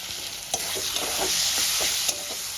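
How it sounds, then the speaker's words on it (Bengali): Moong dal being sautéed with spices in oil in a pan for a paneer and cabbage dish, a steady bright sizzle with a spatula scraping and stirring in soft repeated strokes, close up and with no voices. "দিয়ে মশলার সঙ্গে কষাতে থাকবো। খুব ভালো করে কষিয়ে নেব।"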